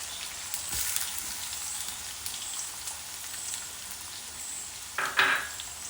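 Garlic and then ginger dropped into hot oil for a homemade rambutan pickle, giving a steady soft sizzle and crackle that flares briefly louder near the end.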